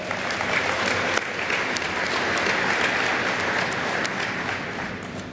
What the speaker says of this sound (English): Please join me in another warm round of applause.